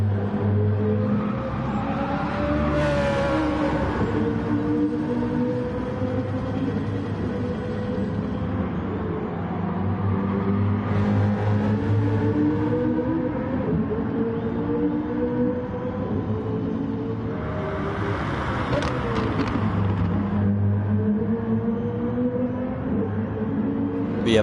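BMW and Audi race cars lapping Catalunya in a racing sim, loud sustained engine drones rising and falling as they accelerate and shift, with two louder passes swelling past nearby.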